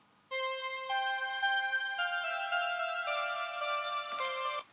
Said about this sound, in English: an overdubbed Marion synth that sounds like this